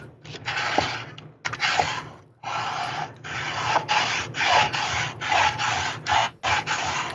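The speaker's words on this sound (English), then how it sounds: "she's sanding" Sanding on a box comes through as repeated rhythmic rasping strokes, each lasting about a second with brief pauses between, fairly close and moderately loud.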